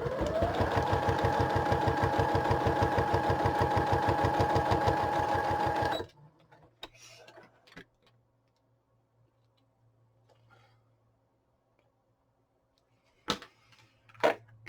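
A sewing machine stitches fabric pieces together in a fast, even run of ticking stitches for about six seconds, loud and close, then stops, leaving near silence and a few faint clicks and handling noises.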